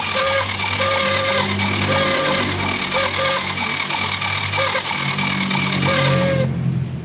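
A Honda Supra 100 motorcycle engine fires up and runs steadily after a spark plug adjustment, a close, continuous mid-pitched idle with a faint tonal whine before cutting out near the end.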